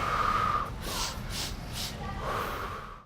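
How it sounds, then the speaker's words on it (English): Students do warrior breathing in a restorative class, inhaling through the nose and exhaling through the mouth; a few sharp, forceful breaths and snorts follow one another over about three seconds, close and fairly loud, with no talk. "Through the nose, 1 breath out through the mouth, warrior breath."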